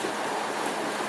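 A 2010 Chaparral SSI bowrider runs wide open at full throttle on the water, a steady, loud, unbroken roar of engine and rushing water with no pauses.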